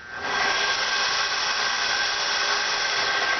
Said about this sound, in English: So, let's start sanding.